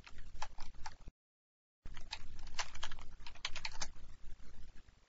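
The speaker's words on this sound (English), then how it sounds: "All we have to do is type in hello world." Steady typing on a computer keyboard, close and fairly quiet, with a brief pause partway through.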